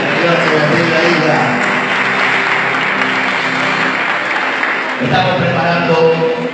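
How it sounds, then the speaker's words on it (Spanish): Church congregation clapping during a service, a dense sustained applause that fills most of the stretch, with faint voices and organ-like tones underneath and a brief dip near the end. "denle un aplauso."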